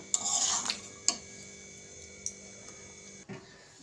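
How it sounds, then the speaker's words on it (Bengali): Chana paneer is moved onto a serving plate with a few sharp clinks of a spoon against metal and ceramic, spaced apart over a quiet hum, close and fairly faint. "এবার আমি সার্ভিং প্লেটে নামিয়ে নেব"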